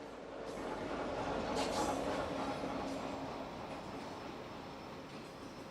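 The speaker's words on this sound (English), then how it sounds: "Bringing up the rear is Canadian Pacific 7057, an EMD SD70 ACU rebuild." A Canadian Pacific freight train with an EMD SD70ACU locomotive at the rear rolls past at a distance, a broad rumbling wash of rail noise that swells and slowly fades, with no voices.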